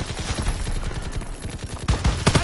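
Rapid bursts of gunfire in a PlayStation 4 war video game, dense repeated shots and automatic fire rattling continuously and loudly throughout, with no talking.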